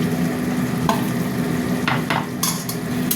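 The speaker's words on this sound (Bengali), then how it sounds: "এবার এটা আস্তে আস্তে কষা হবে, হতে থাক।" Spices and chicken are slowly stir-fried for a chicken curry, with a constant close sizzle and occasional sharp scrapes and clinks of a spatula against the pan.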